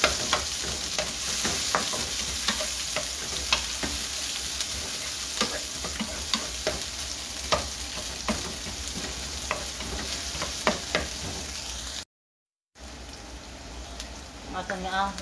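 Onion frying in a pan for ginataang mongo, a steady close sizzle with frequent rhythmic stirring scrapes and taps, one brief cut of silence, and faint speech-like sounds near the end.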